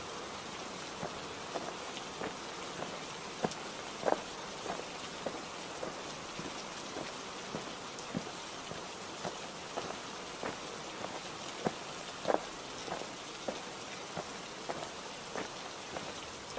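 Steady heavy storm rain in a cartoon pours without pause, a dense even hiss dotted with sharper drop impacts, with no voices.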